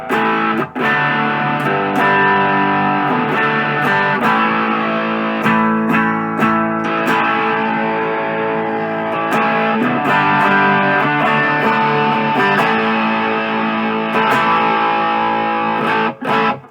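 Loud, sustained overdriven electric guitar chords through a Boss SD-1 overdrive pedal ringing out, with a few brief strums and gaps between them.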